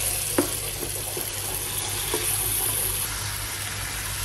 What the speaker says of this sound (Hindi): अब मैं इसके अंदर ऐड कर रही हूँ ये मेरा कीमा है। तो ये कीमा जो है 750 ग्राम है, यानी 3 पाव। इसको अच्छे से इसमें भूनेंगे हम